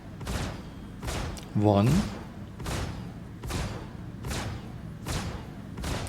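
Suckerpunch XL distortion guns firing at ships in a space video game, a regular series of deep thudding booms about every 0.8 seconds, with a voice speaking briefly between shots.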